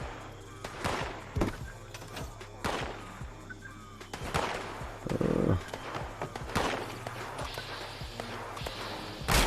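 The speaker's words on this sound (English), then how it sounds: "I hate this gunfire." Repeated sharp gunshot bursts crack out at irregular intervals over a steady low hum, with occasional louder volleys and a brief mechanical whir, in the video game Fallout 76.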